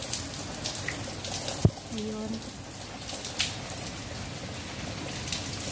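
Heavy rain from Cyclone Shaheen pouring in Muscat, Oman, a steady close hiss of falling water with a sharp knock partway through, while a person speaks briefly over it.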